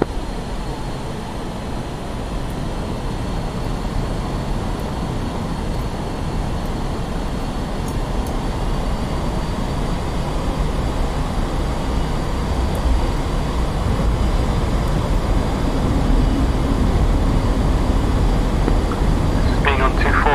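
An aircraft engine roars steadily through a rolling takeoff in the DCS flight sim, a constant loud droning rumble that builds slightly over time, with a person talking over it.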